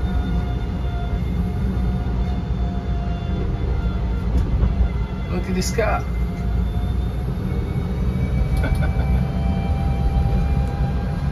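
A Fiat Topolino electric microcar drives slowly through town, giving a steady low hum and rolling road noise with a brief passing whine midway, while someone talks briefly.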